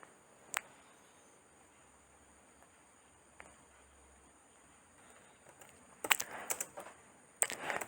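A computer keyboard being typed on to enter a file name, a few isolated clicks and then two short bursts of rapid keystrokes near the end, close and fairly quiet in a hushed room.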